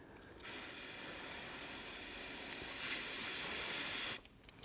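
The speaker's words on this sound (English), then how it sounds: "Just sprayed some brake cleaner on it." Brake cleaner sprays from an aerosol can onto a motorcycle drain plug as one continuous close hiss lasting about four seconds, cut off abruptly, with no talking.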